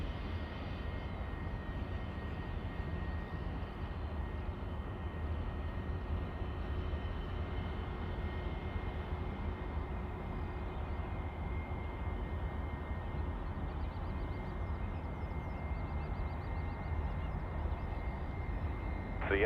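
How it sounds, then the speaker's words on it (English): Qantas Airbus A380 on final approach to runway 34 left at Sydney Airport, a steady broad engine roar held at moderate distance for the whole stretch, with no talk over it. "Qantas 2, the A380 on finals"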